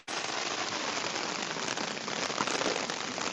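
Heavy rain pours down outdoors, a loud, dense, steady hiss with scattered crackling drops hitting a surface close by, continuous throughout with no talking.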